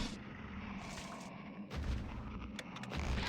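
A single heavy gunshot booms in a dark horror video game, a loud report rising out of a quieter, murky game background, with a few sharp clicks and thuds right after.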